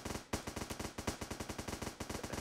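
Rapid automatic gunfire from a weapon in the game Starbound, a steady burst of evenly spaced loud shots rattling off for a couple of seconds with only a brief break, close and dominant.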